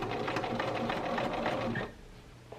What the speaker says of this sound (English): I am going to base stitch it just to make sure I like the way it looks